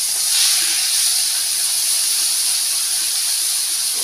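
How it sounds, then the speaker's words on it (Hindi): Garlic and onion paste hits hot oil with crackled mustard seeds for a ridge gourd masala curry, giving a loud, steady, close sizzling hiss that holds evenly throughout without talk. "अब डालेंगे यहाँ इसमें लहसुन और प्याज का पेस्ट"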